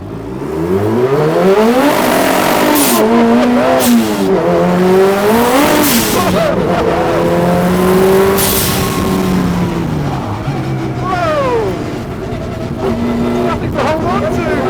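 A car pulls away and accelerates hard, the engine note rising through the gears with tyre noise, loud and near, while people talk over it.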